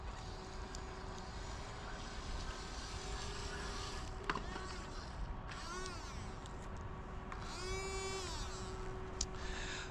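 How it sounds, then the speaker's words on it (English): A toy WLtoys WL917 RC jet boat runs on water near rocks, its small motor giving a thin, whining buzz that rises and falls in pitch with throttle changes, faint and steady against outdoor water and wind noise. "Jet boats aren't designed for speed."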